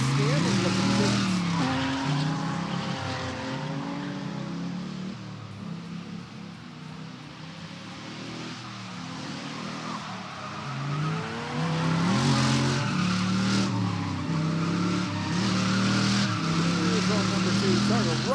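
At a Drifting the Plains grassroots drift event, cars including a Nissan 370Z battle in tandem through the top 16, their engines revving hard and tires squealing and skidding continuously, loud and close, with surges as they swing through the corners.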